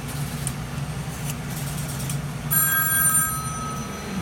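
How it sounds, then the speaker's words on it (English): A telephone bell on an old step-by-step PABX and 1A2 key telephone system starts ringing partway through, a bright sustained tone over a steady low mechanical hum. "Oh, it's that phone that's ringing right now?"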